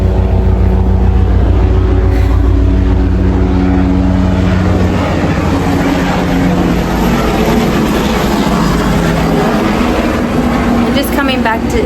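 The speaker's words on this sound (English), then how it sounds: "they're coming by to say hi in their helicopter." A helicopter flies past, making a loud, continuous rotor and engine drone with a throbbing low rumble. The noise fills the whole stretch with no pause, and a voice may be faintly mixed in.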